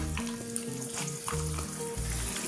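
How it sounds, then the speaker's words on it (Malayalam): Coconut pieces fry in ghee with a soft, steady sizzle and crackle, close but fairly quiet, for a Kerala parippu pradhaman, with no talking over it. "ഇത് നെയ്യിൻ്റെ അകത്ത് ഇട്ടിട്ട് നന്നായിട്ടൊന്ന് മൂപ്പിച്ചെടുക്കാം കേട്ടോ"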